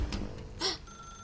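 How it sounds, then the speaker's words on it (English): A telephone rings in The Stanley Parable: Ultra Deluxe video game, with a short, bright ring burst near the middle of the clip and a faint earlier tone, heard alone with no talk. "Now pick up the phone."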